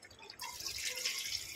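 Water pouring into a pot of beef being cooked for biryani, a steady bright splashing rush starting abruptly after a brief quiet moment and continuing close and fairly loud.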